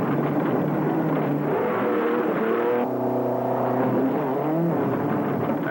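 A car rolls along steadily on a set of well-worn Sears steel-belted radial tires, with a continuous engine and road hum. The tone shifts partway through as the engine note changes.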